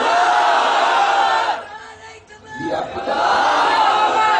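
A large crowd roars a loud, sustained takbir response at an All India Sunnat al-Jamaat gathering in 2016; the massed voices drop away briefly in the middle, then surge back just as loud.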